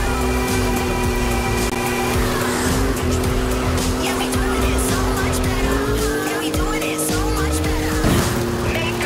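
A car in the Forza Horizon 5 racing game drives with a steady engine drone, tires squealing in sustained bursts over a continuous road roar, while a voice talks over the gameplay.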